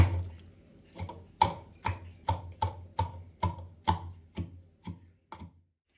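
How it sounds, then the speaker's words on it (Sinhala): Ingredients for Sri Lankan yellow rice are crushed together in about a dozen sharp, close pounding thuds at a steady, roughly twice-per-second rhythm, fading slightly toward the end with no talking. "ඊට පස්සේ මේ ටික ඔක්කොම එකට තලා ගන්න"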